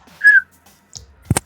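A person imitates whistling with a short rising whistle, then a brief breathy chirp and a couple of soft mouth clicks, close and alone against silence.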